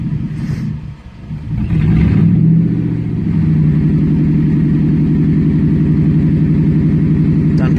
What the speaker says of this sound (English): I'm having to hold my foot on the gas to just keep it running, because otherwise it just tries to die.